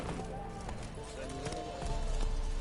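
Hooves of Roach, a horse in The Witcher 3, clop in a quick trotting rhythm under a voice and game ambience.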